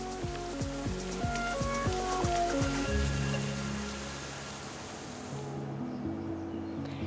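The 9-metre Cascade des Aygalades waterfall in Marseille gives off a steady broadband rush of falling water, with plucked music notes over it for the first few seconds before the water continues alone.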